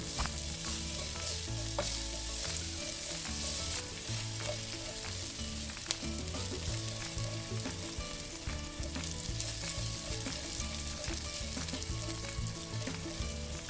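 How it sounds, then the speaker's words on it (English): Garlic sizzles steadily in a hot pan as it sautés toward golden brown, a loud, dense, continuous frying crackle with no talk over it. "Now we're going to saute the garlic until they're golden brown."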